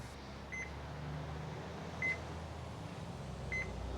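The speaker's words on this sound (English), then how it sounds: "That's our chicken timer." A meat probe timer on a Lonestar Grillz offset smoker, set for chicken, chirps three short, high electronic beeps spaced evenly about a second and a half apart over a steady low background hum.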